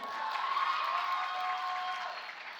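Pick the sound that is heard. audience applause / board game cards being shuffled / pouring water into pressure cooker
audience applause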